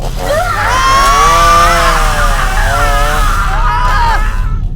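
A chainsaw roars while a man screams in a horror scene, the motor's whine and the drawn-out agonised yell loud and close, overlapping and wavering before trailing off near the end.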